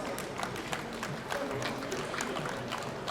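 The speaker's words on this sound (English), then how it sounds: "Can we clap for Fela Post?" An audience applauds an award presentation at a business and cultural day celebration, a steady, dense patter of many hands clapping that keeps an even level throughout, with faint voices underneath.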